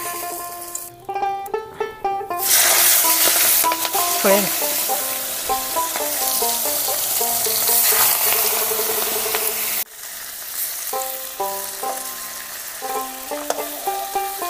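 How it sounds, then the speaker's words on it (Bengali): Prawns dropped into hot oil in a kadai set off loud, continuous sizzling and crackling, with frying surging after a brief pause near the start, cutting out once, then resuming. "এবারে চিংড়িগুলো আমরা তেলে ছাড়বো।"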